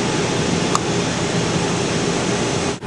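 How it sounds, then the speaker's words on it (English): Air rushes steadily and loudly into a vacuum bell-jar chamber on an evaporator as it is vented, a constant broadband hiss that drops out briefly just before the end. "And we are now evacuating the chamber to air."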